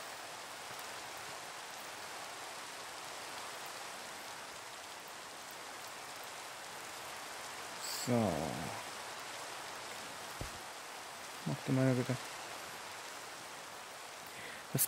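Steady rain falls in the video game Minecraft, a continuous soft hiss throughout, with a brief spoken voice and a couple of short game sounds partway through.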